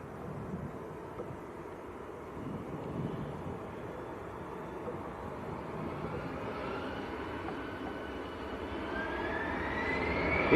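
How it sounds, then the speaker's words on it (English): An EasyJet jet departs Manchester Airport, its engine roar building steadily with a rising whine toward the end, growing louder and nearer, with some wind buffeting the microphone. "EasyJet taking it very short. Shortest departure so far today."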